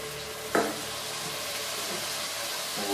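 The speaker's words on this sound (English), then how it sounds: "so we'll add the red wine" Red wine hits a hot pan with a sudden splash, followed by a steady, loud sizzle that continues throughout.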